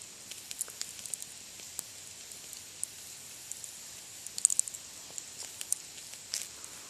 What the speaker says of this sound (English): And if you can listen, it is cooking